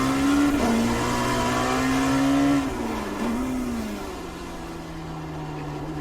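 Dallara P217 LMP2 prototype engine in iRacing at Circuit of the Americas, loud and steady, with a clear drop in pitch as it shifts down and keeps dropping under braking, with no talking over it.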